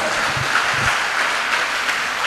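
A church congregation claps loudly together during a pastor's sermon, a dense, continuous wash of applause filling the room with no gaps, with low thumps briefly underneath.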